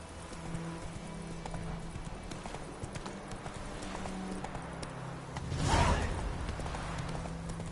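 Roach the horse running in The Witcher 3 video game: a steady, fairly close clip-clop of hooves at a gallop, with a brief whooshing swell near the end.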